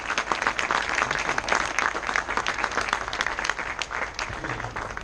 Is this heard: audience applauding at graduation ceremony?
yes